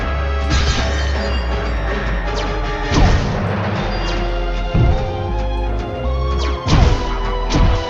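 Machine ray gun fire in the video game The Deadly Tower of Monsters, with a loud continuous stream of sci-fi blasts, crashes and booms over game music, punctuated by several heavier impact bursts.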